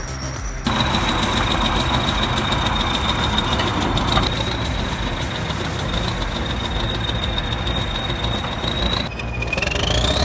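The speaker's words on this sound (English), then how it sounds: "The engine growls, the blade bites into the earth, pulling that load foot by foot." A T130 bulldozer engine labors steadily while hauling a broken-down KAMAZ truck uphill, a continuous loud mechanical drone with a high whine running through it and no speech.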